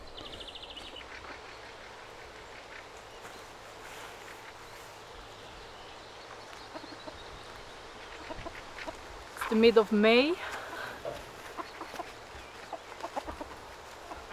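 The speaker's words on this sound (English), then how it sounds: "The chicken says otherwise." Chickens on a small farm in northern Sweden give a brief burst of clucking and squawking near the middle, heard over outdoor background noise, with people talking before and after.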